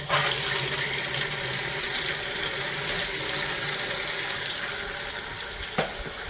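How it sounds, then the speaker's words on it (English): Water runs steadily from a tap in a continuous gushing stream, with a brief clunk near the end. "I'm just going to turn the water on for my new device over here"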